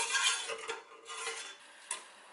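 A spoon stirs sugar syrup in a pan over medium heat, dissolving the sugar for strawberry lavender cordial: several soft clinks and scrapes against the pan, close and fairly quiet, with no voices.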